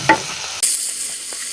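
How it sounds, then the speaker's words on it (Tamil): Tomatoes sizzling and frying in a hot pan as they are stirred, a steady close hiss with a brief scrape near the start. "இதையும் வந்து நல்லா வதக்கி விட்டுருலாம்"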